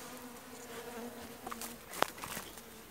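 Honey bees hum softly around a weak hive frame, a faint continuous buzz with a few brief louder passes close by and one sharp knock partway through.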